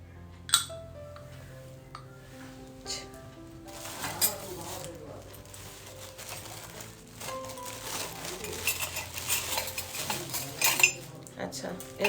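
Brass serving spoons bought at a Holi fair in Uttarpara clink and rattle against one another and other metal, scattered light chinks growing busier over time, close and fairly faint.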